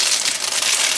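Dry macaroni poured into a pot makes a dense, continuous high rattling and clattering. The pour is close and fairly loud, with no pauses and no voices over it.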